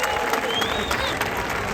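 A rally crowd at Gibraltar National Day applauds British forces, dense sustained clapping with scattered cheers filling the space, steady and close throughout the short burst.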